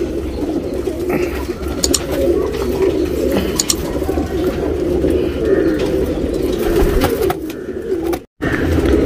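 A male Dubas pigeon coos in continuous low rolling calls, loud and near, over a busy background with faint talk and a brief dropout near the end.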